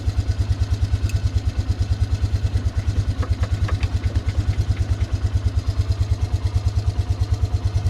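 A Polaris Ranger 500 EFI engine idles close by with a steady, rapid thumping pulse and a mechanical clatter, running alone without talk.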